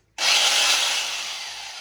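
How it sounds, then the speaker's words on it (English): An electric hammer drill chisels plaster off a wall back to brick, a loud harsh continuous roar that kicks in abruptly and holds steady, close by and alone. "An electric drill on hammer setting"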